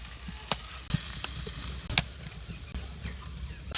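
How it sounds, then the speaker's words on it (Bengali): Spices being browned in a pan in a village kitchen, a continuous close sizzle broken by several sharp clicks and stirring knocks, with no voices. "এদিকে মশলা ভুনো হয়ে গেছে,"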